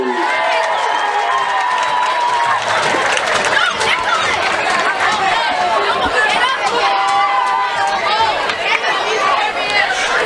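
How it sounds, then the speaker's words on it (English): At a high school varsity football game, the crowd cheers for the cheerleaders, a dense, loud roar of shouting and chatter that continues throughout, with voices talking over it. "Cheer for our running rocket cheerleaders."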